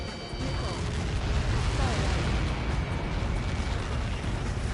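A large in-game blast from satellite-fired projectiles in Ace Combat 7 flight combat, heard as a sustained, dense rumbling roar that runs loud and steady the whole time under a layer of game sound, with talk mixed in.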